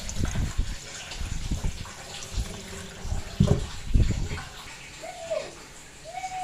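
Cold water drains off soaked potatoes into a sink with uneven splashing and gushing, broken by a few hollow thuds and clunks, fairly close but not loud.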